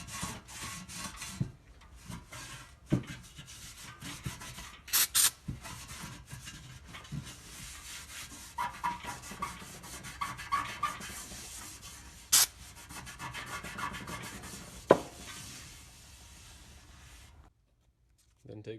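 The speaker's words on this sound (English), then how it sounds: "Then take some 220 and just do a quick sand, taking off any kind of rust spots or anything." A rusty transmission pan being hand-sanded with 220 grit sandpaper, giving quick, rough rubbing strokes close by with a few sharper knocks, fading to silence near the end.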